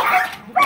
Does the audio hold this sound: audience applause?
no